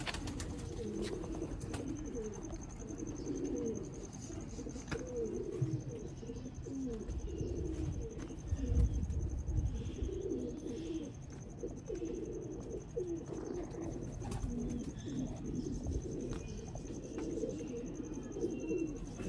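Rooftop loft of Mian Nazir bloodline pigeons in Sialkot cooing steadily, many soft overlapping coos close by over a constant low murmur of birds, with no talk.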